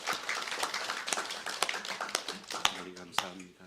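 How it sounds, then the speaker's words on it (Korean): Church congregation claps in praise during a Sunday service, scattered sharp claps and taps under a voice speaking over them. "하나님께 영광의 박수 올려드리겠습니다"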